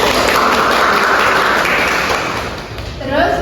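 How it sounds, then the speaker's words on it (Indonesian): A classroom of students claps together, a dense, close burst of applause that fades slightly, with a voice speaking at the end. "Tepuk tangan."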